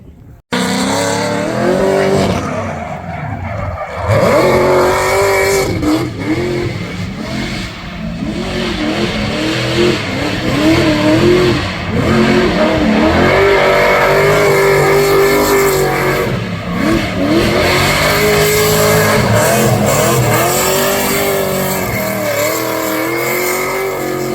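A Chevrolet Corvette C6 drift car's engine revs hard and repeatedly, rising and falling pitch sweeps with brief tire squeal, loud and close for the whole stretch.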